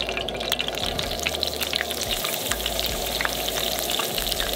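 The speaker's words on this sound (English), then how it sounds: "it's going full on frying oil here" Blackened salmon fries in hot oil in a cast iron skillet, giving a loud, steady hiss and crackling sizzle with scattered pops, close and continuous.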